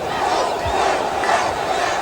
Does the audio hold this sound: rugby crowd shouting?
yes